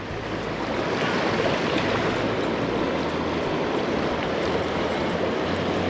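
Waterfall on a trout stream, a steady broadband rush of falling water that holds constant and fairly loud with no voices over it.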